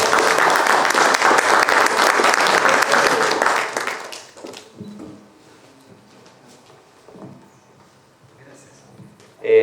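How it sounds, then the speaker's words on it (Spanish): An audience breaks into loud applause at a talk on real estate investing, steady for about four seconds, then dies away to scattered rustles and faint movement. "Un aplauso"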